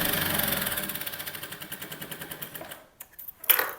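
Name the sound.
sewing machine doing top stitching on a kurti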